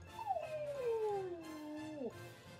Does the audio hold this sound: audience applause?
no